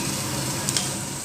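Stirring white sauce pasta with chili flakes in a pan, a steady close sizzle and scraping texture running throughout with two brief sharper clinks near the middle.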